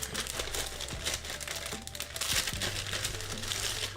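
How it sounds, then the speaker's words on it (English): Plastic bag crinkling as a respirator mask is pulled out of it, a run of close, dry rustles and crackles with a few sharper crunches, handled steadily for several seconds. "I keep it in a plastic bag"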